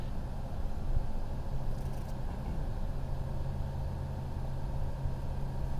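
Rotax 912iS engine of 100 hp powering a Zenith STOL CH 750 airplane, a steady smooth low hum with faint wind noise, constant and moderately quiet from start to end.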